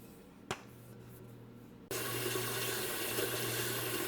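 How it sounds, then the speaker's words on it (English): Cold tap water runs steadily into a metal canner pot for tomato canning, a faint trickle giving way to a loud, continuous full-flow gush partway through. "I'm putting approximately 2 inches of water into my canner, and I'm using cold water."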